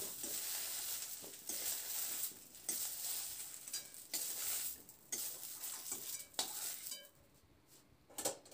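Okra fries in a pan and is stirred with a utensil: repeated scraping and clattering strokes over a continuous sizzle, close and fairly quiet, with no talking.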